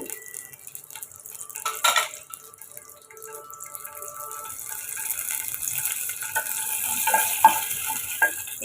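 Whole biryani spices, stone flower and cloves among them, fry in hot oil with a soft, steady crackle and occasional stirring clinks, fairly quiet and with no voices.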